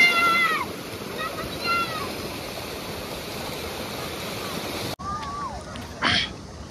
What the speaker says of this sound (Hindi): यहाँ देखें, पानी का फ्लो अच्छा है,